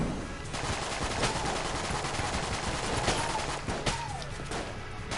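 Dense, rapid gunfire and bullet sounds from the video game Enter the Gungeon, a steady loud barrage of shots running through the whole stretch with no voices.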